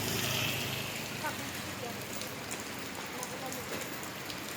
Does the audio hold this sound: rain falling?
yes